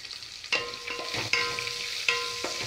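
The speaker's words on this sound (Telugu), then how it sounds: "ఆనియన్స్ బాగా వేగుతాయి" Onions frying in a pan for chicken dum biryani, a steady close sizzle with a few sharp scrapes of stirring spaced across it, no talking.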